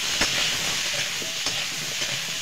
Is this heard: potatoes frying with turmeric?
yes